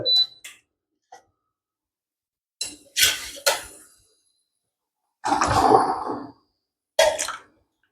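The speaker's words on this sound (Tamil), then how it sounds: "இந்த மாவை தூக்கி இப்போ நாங்கள் அதை ஊற்ற போகிறோம்" Metal utensils clink against a pot in short bursts, then thick batter pours and splashes wetly into the cooking pot for about a second, close by, while making hotel-style masala milk tea.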